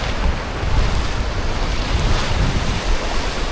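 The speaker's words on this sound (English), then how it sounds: "A few waves here, which is awesome." Ocean surf rolls onto a beach at Hua Hin, Thailand, a constant loud wash of breaking waves mixed with heavy wind buffeting the microphone, with no voices.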